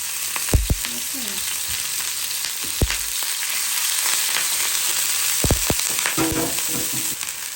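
Finely chopped chicken frying in a little oil: a steady loud sizzle throughout, broken by a few scrapes and knocks of a spatula stirring the pan.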